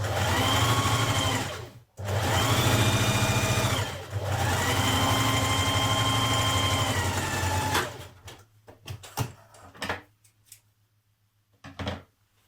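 A domestic sewing machine stitches the side seam of a woven Burda 6225 top, running loud and steady in two long bursts with a brief stop between, then stopping for quiet fabric handling and a short final burst.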